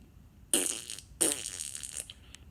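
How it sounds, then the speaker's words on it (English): Two loud, buzzy fart sound effects play back to back, each a sudden raspy burst trailing off, followed by a faint sputtering tail. "Of course, I play fart sounds on YouTube."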